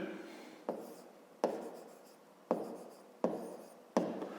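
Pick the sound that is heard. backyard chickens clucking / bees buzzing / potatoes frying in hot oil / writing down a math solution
writing down a math solution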